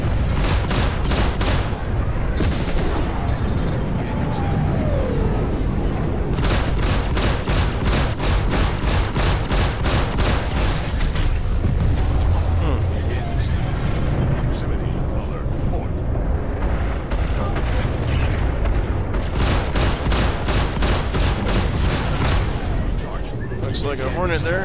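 Missile launches and explosions rumble through a Star Citizen dogfight in a Vanguard Sentinel, a loud, dense barrage of repeated bursts and blasts over a continuous engine roar, with a voice talking over the combat.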